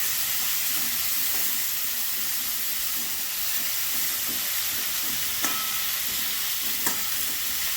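Cauliflower florets salted and dusted with turmeric fry in a pan for a rohu fish curry, giving a steady, close hiss and sizzle with faint stirring scrapes throughout and no talk.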